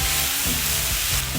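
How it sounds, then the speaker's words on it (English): Steady, loud sizzling hiss of ribeye steak searing on a hot barbecue grill, continuous throughout with faint low clatter underneath. "Everything's sizzling."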